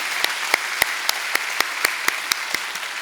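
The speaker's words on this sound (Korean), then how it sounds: "오늘 한번 감사의 박수 올려드릴까요" Church congregation clapping in unison to give thanks to God, sharp rhythmic claps at a steady even beat, roughly three or four per second, with a quiet room between them.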